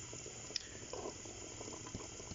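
Soft bubbling and gentle sizzle of mutton korma with milk simmering in a pot over a medium-high flame, quiet and close, with a small clink near the start.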